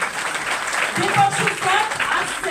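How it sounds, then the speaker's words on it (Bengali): An audience at a seminar claps for a speaker. Steady applause fills the room, mixed with voices talking over it. "তো বালি স্যারের জন্য একটা জোরদার হাততালি হবে।"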